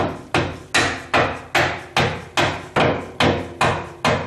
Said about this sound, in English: I should be able to persuade it in with this dead blow.